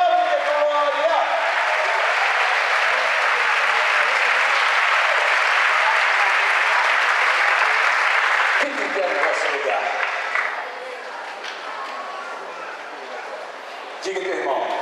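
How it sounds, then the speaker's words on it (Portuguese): A church congregation claps hands in sustained, dense applause that fills the room, then thins and softens toward the end, with voices speaking over it. "Bata palmas de glória."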